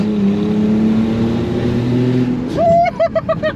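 A supercharged 420 hp Audi S5 accelerates hard uphill at full throttle, its engine drone climbing steadily, then swelling into a loud, rising rev with rapid gear-change pulses near the end; no talking.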